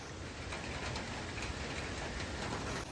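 Heavy rain pours down steadily and loudly during a roadside stop on a motorcycle trip, a dense unbroken hiss with no voices.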